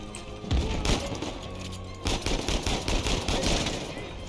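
Gunfire in the Uncharted 4 video game: rapid automatic bursts and sharp individual shots come in two loud clusters, dense and punchy, with game ambience filling the gaps.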